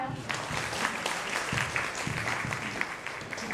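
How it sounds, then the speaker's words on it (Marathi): A seated audience gives warm applause for actress Tejashri Pradhan, dense steady clapping filling the hall throughout with no break. "तर एकदा तेजस्वीसाठी जोरदार टाळ्या"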